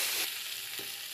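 Ginger garlic paste fries with softened onions, a steady bright hiss with a couple of soft stirring scrapes, brief and fairly faint, with no voices.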